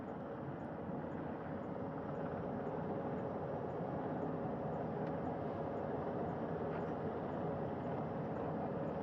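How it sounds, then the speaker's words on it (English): Steady, loud rotor and engine roar from a helicopter touching down on a ship's flight deck, a broad continuous drone holding level throughout with no voices. "As that third helicopter touches down."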